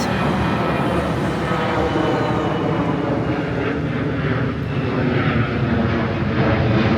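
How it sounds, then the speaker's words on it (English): Airplanes pass overhead near Toronto Pearson Airport, a loud, continuous engine roar that holds steady and builds slightly over several seconds, heard from a street walk in Etobicoke. "I'm hearing a lot of planes because I am not too far from Toronto Pearson Airport."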